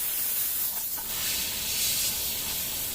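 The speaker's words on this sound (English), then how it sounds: "so I'm spraying out my red until it turns yellow" An airbrush sprays Vallejo paint, clearing out red before switching to yellow ink on a tabletop Adeptus Mechanicus Tech Priest Enginseer miniature, giving a steady, loud, close hiss of air and paint that runs unbroken throughout.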